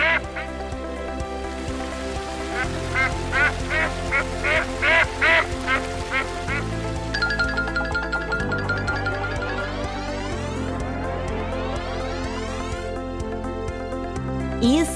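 Repeated duck-like quacks ring out over a busy toy-music backdrop with steady tones and rising sweeps, fairly loud and continuous throughout.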